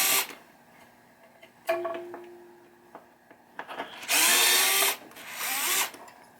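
A power drill runs in short bursts while backing out two screws from the ball trough assembly on a 1976 Williams Grand Prix pinball machine, with a louder sustained whir near the end, close up and with no talk.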